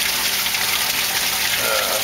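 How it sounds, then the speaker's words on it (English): Water pouring steadily through a 300 micron screen filter in a small DIY tilapia aquaculture system, a constant close hiss and splash with no break. "Water goes through the screen, 300 micron screen, and it kicks the poo out"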